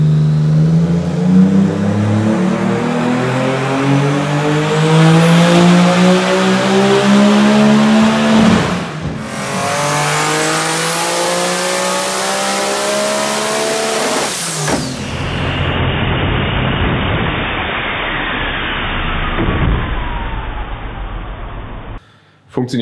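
Tuned Nissan GT-R R35 with roughly 2500 horsepower running close by, loud revs climbing and falling in several pulls with a rough idle between them, and people talking over the engine.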